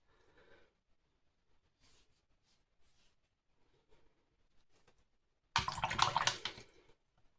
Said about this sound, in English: And give my brush a little bit of a rinse.